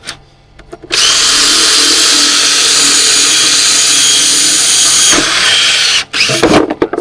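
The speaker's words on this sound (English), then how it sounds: "easier to lay that back on the floor and drill those holes out" A power drill bores holes in salvaged farm equipment laid on a workshop floor, a loud, steady high whine running for about five seconds after a short start, then stopping with a few clunks as the drill is pulled free.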